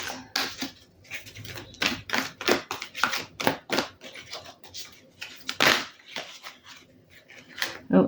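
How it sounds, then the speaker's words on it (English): A tarot deck is shuffled by hand in a run of quick, crisp riffling clicks and card snaps, close up, broken by short pauses, with no voice over it. "Oh, again, 2 cards turned in my shuffle."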